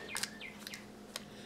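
Several quiet bird chirps and short tweets, in small bursts with gaps between them, sit over a steady low indoor hum.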